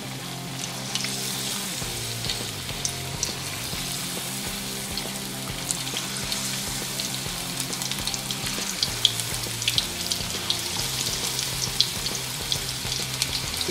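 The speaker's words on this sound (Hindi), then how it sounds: "पीसेस एक एक करके डालेंगे ताकि ये आपस में चिपके नहीं, और थोड़े थोड़े करके हम इसे फ्राई करेंगे।" Marinated chicken pieces fry in hot oil for chilli chicken, a steady dense crackling sizzle close by that runs continuously with small pops scattered throughout and a faint low hum beneath, no voices.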